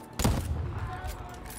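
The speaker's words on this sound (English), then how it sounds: "Okay, this must be the sniper rifle." A single sharp sniper rifle shot from the game DEATHLOOP cracks out near the start, followed by a short rumbling tail over quiet game ambience.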